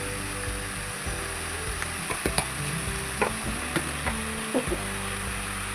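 Chicken sizzling and frying in a pan, a steady hiss with scattered sharp clicks and scrapes as the pieces are stirred.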